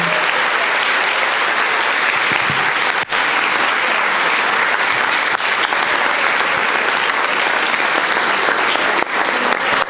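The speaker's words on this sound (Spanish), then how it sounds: "les pido un enorme aplauso de bienvenida para nuestra compañera Gabriela Borrell" A large audience claps in welcome for a speaker at a talk, a sustained, loud wash of applause that runs unbroken and evenly for the whole stretch, with no voices over it.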